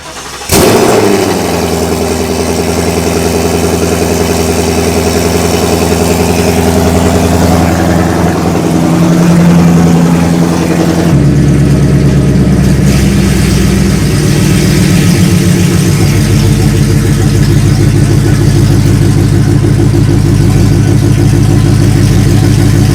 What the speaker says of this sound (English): This is actually the true cold start.